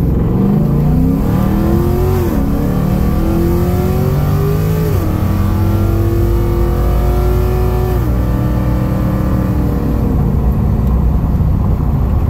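A third-generation car with a swapped 6L80 six-speed automatic transmission accelerates hard, its engine note climbing steadily and then dropping at each crisp upshift, three or four shifts in a row, loud and close throughout.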